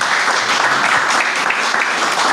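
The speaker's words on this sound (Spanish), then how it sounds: "por eso den un fuerte aplauso al Señor" A church congregation claps loudly and continuously, a dense, steady wash of applause filling the room with no break.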